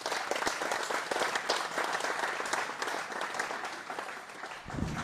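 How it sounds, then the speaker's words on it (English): An audience applauds at a PBA50 National Championship bowling stepladder final at Signature Lanes in Elkhart, giving steady, dense clapping that lasts the whole stretch and dips slightly near the end. "Nice round of applause."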